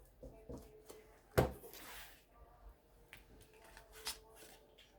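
Tarot cards are shuffled once, a sharp riffle snap followed by softer card rustles and light taps, quiet and close in a still room.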